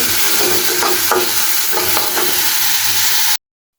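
Shrimp and leafy greens frying in a pan, a steady loud sizzle with scraping stirs of a utensil throughout, ending abruptly.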